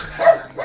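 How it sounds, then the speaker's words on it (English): A single short dog bark or yip, close by, followed by a faint trailing whine. "So that is my dog Pepper,"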